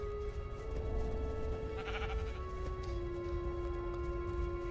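A sheep in Minecraft Story Mode bleats over a quiet, sustained game music bed, a single wavering bleat standing out near the middle, fairly faint and alone without talk.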